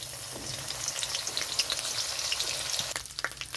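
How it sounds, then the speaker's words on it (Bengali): Ginger and garlic fry in hot white oil in a wok, a close, steady sizzle with crackling pops and occasional stirring scrapes. "এখানে রসুনটা একটু ভাজা হয়ে গেছে।"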